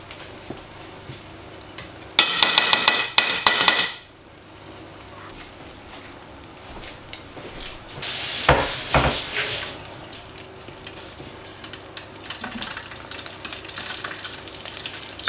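Fish deep-frying loose in hot oil without a basket, a steady crackling sizzle with loud bubbling surges when pieces are dropped in or moved, then settling to a softer hiss.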